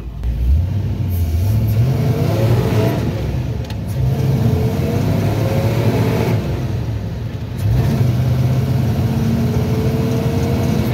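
A 1969 Ford F100 engine revs hard and accelerates, roaring loud and close with rising pitch sweeps through the gears, easing briefly between pulls, with no voices over it.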